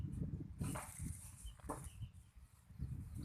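Two fighting roosters scuffle in a cockfight, faint bursts of wing flapping and thumping scuffles with short rustles between them, heard from some distance.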